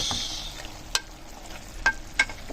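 Chicken gizzard adobo is stirred and fried in a pan, giving a soft steady sizzle broken by a few sharp clinks and scrapes of the utensil against the pan, close up with no talking.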